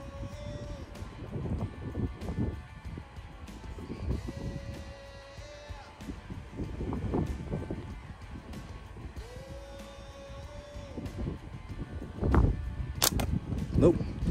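Shots from a Simpleshot Torque X slingshot, sharp snapping releases and impacts scattered across the clip, close and moderately loud, amid background noise and some talking.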